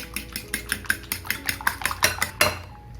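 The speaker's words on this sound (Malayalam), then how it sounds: "ഇനി മുട്ട നന്നായിട്ടൊന്ന് മിക്സ് ചെയ്യാം. ഒരു ഫോർക്കാണെങ്കിൽ എളുപ്പത്തിലാകും." Rapid rhythmic clinking of a fork beating egg against a bowl, about a dozen quick strokes, close and fairly loud, ending abruptly.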